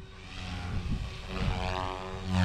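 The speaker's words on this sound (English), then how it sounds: "Helicopter's no porpoising." Radio-controlled helicopter fitted with an iKon/Brain flybarless controller hovering and flying nearby, a steady buzzing rotor and motor whine with rising and falling pitch.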